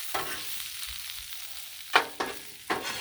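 Fresh corn and vegetables sizzle faintly in ghee on a griddle, a soft steady fry broken by a few sharp scraping stirs toward the end.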